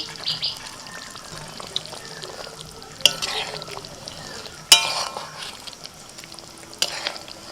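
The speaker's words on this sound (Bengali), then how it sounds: "ঢাকা খুলে এবার আমি দিয়ে দিচ্ছি একটু গরম মশলার গুঁড়ো আর দিচ্ছি এক চামচ মতো ঘি" Garam masala powder and a spoonful of ghee go into a hot pan while a vegetarian dish cooks. A constant sizzle hisses throughout, broken by three sharp spoon knocks against the pan.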